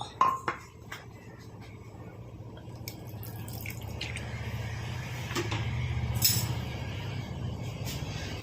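Water is poured into a pot of salted potatoes set to boil for a potato stir-fry. A couple of metallic clinks come first, then a steady pour that slowly rises in volume and continues for several seconds, close by, with no talking.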